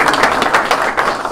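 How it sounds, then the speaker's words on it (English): An audience claps together for city council members at a civic event announcing a baseball stadium name, giving a short, dense burst of applause. "If you could give them a round of applause."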